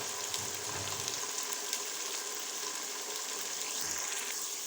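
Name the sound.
frying masala with tomatoes for chicken haleem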